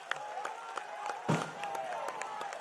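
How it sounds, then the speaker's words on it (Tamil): Applause from a ceremony audience at a swearing-in event, heard as faint, steady clapping from a distant crowd, with sharp individual claps standing out through a quiet, roomy background. "எல்லாரும் எந்திரிச்சு நின்று கரகோஷத்தோடு அவரை வரவேற்று"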